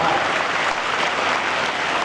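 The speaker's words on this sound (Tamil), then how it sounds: "கைத்தட்டுங்க, சந்தோஷமா இருக்கு." Audience in a hall clapping to celebrate a film re-release, a dense, even burst of applause sustained throughout, moderately loud with no voices standing out.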